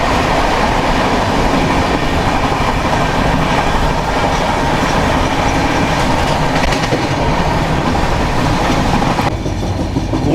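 Loud rolling rumble and rhythmic clatter of wheels on rails from inside the Chennai Central to Howrah mail superfast express, running flat out at about 130 through Vedapalli station without stopping, steady and continuous throughout.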